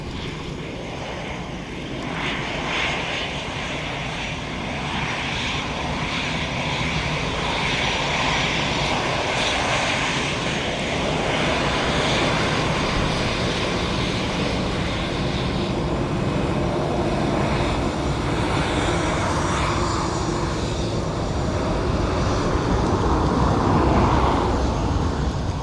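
An ATR turboprop airliner at Dublin Airport gives a continuous, broad engine roar that holds fairly steady and swells slightly toward the end, heard from a distance with no talk.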